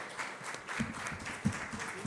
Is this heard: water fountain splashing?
no